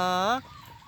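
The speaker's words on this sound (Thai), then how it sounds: "ได้ยินเสียงขันอยู่" A rooster crows once, close and loud, in a single drawn-out call that rises and then breaks off sharply, with quiet background noise after it.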